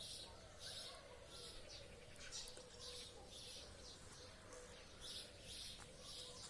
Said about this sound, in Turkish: Kuş seslerini duyuyor musunuz acaba?